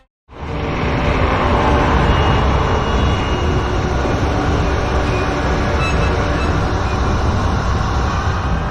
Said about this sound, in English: I must stop this infernal train and the evil force that drives it.